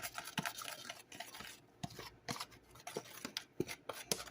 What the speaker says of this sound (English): Then you're going to take your fork and just mix your seasoning salt all around in your flour